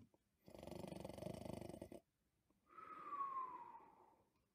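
A storyteller's voice imitates Mrs. Bear snoring in a children's bedtime tale: a rasping inhaled snore followed by a long whistling exhale, close and fairly quiet.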